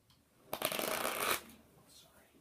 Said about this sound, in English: the spectator can shuffle the cards as much as they'd like